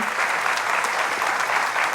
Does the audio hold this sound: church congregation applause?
yes